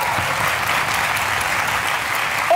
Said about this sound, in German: Wieder mit Publikum. Riesenapplaus.